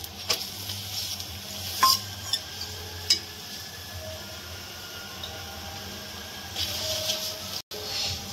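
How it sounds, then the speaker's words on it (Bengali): Cauliflower paratha fries in white oil on a pan, giving a low steady sizzle broken by a few sharp scrapes and clinks of a spatula, close and moderately quiet with no talking. "এইভাবে আমি সবগুলো লই একসঙ্গে ভেজে নিই"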